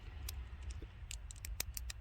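A new hydraulic switch on an S10 lowrider truck gives sharp, dry clicks, a few scattered taps and then a quick cluster, faint over a low background hum.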